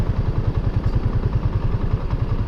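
A white motor scooter's engine runs steadily at low pitch with a fast, even pulsing throb and light mechanical clatter, close and continuous with no talk.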